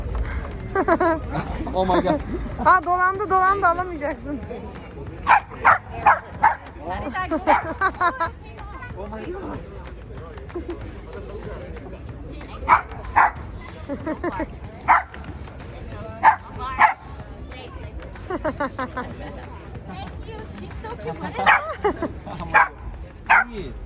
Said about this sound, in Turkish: Buraların göz bebeği oldu Fox ama çok bağırıyor ya